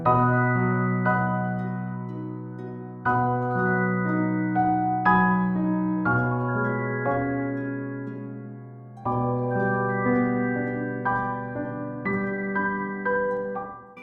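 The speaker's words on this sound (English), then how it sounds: "which I think is just a gorgeous piano" Rich grand piano chords ring out in slow, sustained phrases, each new chord struck clearly and left to decay, played alone with no voices.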